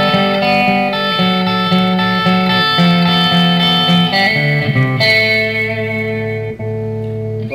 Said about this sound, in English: Plexi with some reverb.